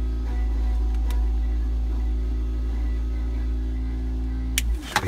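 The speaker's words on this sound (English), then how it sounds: "just put the scavenger pump on to get as much oil through as possible" A scavenger pump pulls oil from the sump of a 400 hp twin-turbo Subaru Forester, giving a steady, close, fairly loud electric drone that runs unbroken for nearly five seconds and then cuts off, followed by a couple of small clicks.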